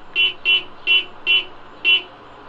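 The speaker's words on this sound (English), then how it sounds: "I think cars use their horns to talk with each other." Five short car horn toots in an even rhythm, loud and close, each a brief bright beep with quiet gaps between.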